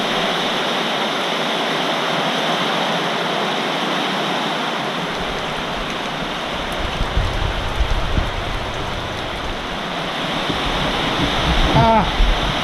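Tropical Storm Lane's rain and wind roar loudly and continuously as a dense, hissing wash close by, with a few brief scrapes near the end and no clear talk.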